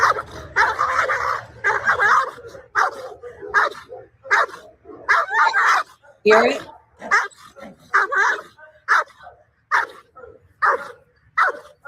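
A frightened dog barks and yelps during a dog fight, sharp repeated bursts in an uneven, choppy rhythm, fairly close, with a person talking briefly over it.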